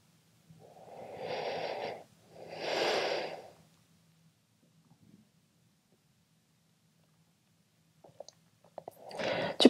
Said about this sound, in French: Encore trois belles respirations.